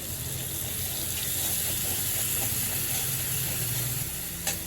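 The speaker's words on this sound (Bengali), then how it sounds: "হিংটা ভেজে নিলাম।" Asafoetida frying in hot oil in a pan for a vegetarian potato and pointed gourd curry, giving a steady, continuous sizzle throughout with a brief clink near the end.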